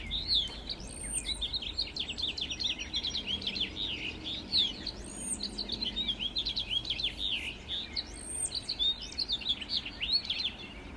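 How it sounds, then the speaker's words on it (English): Male and female house finches chirp and twitter in quick bursts, close by, with short bright calls repeating every few seconds over a quiet background. "what that male house finch was saying to the female"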